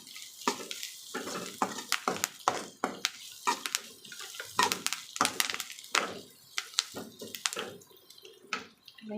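Onions and curry leaves being sautéed in a pan, heard as close, irregular bursts of sizzling and scraping stir strokes that flare and fade in uneven rhythm.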